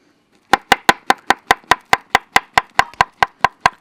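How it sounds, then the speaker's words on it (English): Bananas chopped on a board for vegan brownies, about sixteen crisp, evenly spaced knife strikes in a quick steady rhythm, close and clear with no talking. "take our bananas, peel them, chop them up and pop them in"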